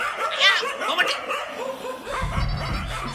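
Several dogs bark in short sharp yips near the start, mixed with human voices and laughter and a low rumble in the background.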